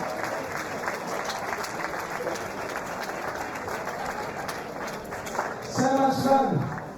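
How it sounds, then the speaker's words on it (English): Steady applause from a crowd at a SuperFight 11 fighting event fills the whole stretch, with a voice rising briefly near the end over the clapping. "Delarcy, a round of applause to you, please."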